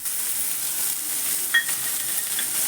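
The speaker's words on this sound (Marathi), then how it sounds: "आता हरभऱ्याची डाळ टाकते मी हे बघा भिजलेली हरभऱ्याची डाळ आहे" Soaked chana dal tipped into a hot pan for a Maharashtrian brinjal-and-dal dish, giving off a steady, soft sizzling hiss with a few small crackles and no voices.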